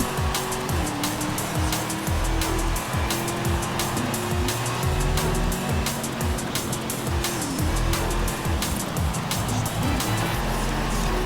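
A 1968 Ford Mustang GT 2+2 Fastback in an all-wheel-drive race tune in the Forza Horizon 5 game roars continuously, revving up and down through gear shifts with tire noise, loud and close, no talking.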